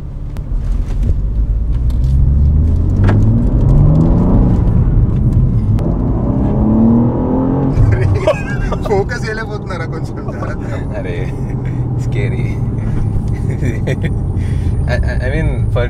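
BMW M2 sports car with a manual gearbox pulling away in first gear, its engine rumbling and rising steadily from inside the cabin while people talk over it throughout.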